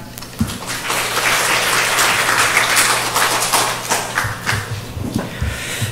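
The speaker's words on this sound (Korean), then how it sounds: "정종원 교수님을 큰 박수로 모시도록 하겠습니다" Loud, dense applause from a symposium audience welcoming a professor to the stage, sustained clapping throughout with a faint hum beneath.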